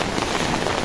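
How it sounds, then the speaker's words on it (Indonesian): Heavy rain falls on a cloudy afternoon in the flood season, a dense, steady hiss of downpour that is loud and continuous with no voices. "hujan lebat lagi."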